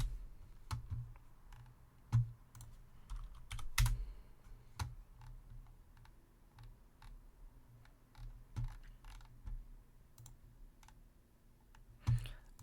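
Typing on a computer keyboard at a steady unhurried pace, crisp individual keystrokes with occasional louder presses, close and alone in a quiet room.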